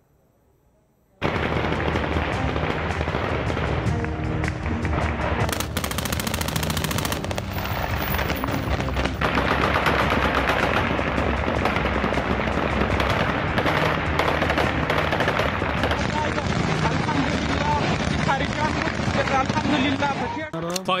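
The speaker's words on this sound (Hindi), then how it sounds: "फायरिंग और आतिशबाजी जैसा नजारा।" Celebratory gunfire by Taliban fighters in Afghanistan, long rapid bursts of automatic fire crackling continuously for about twenty seconds, loud and dense with overlapping shots.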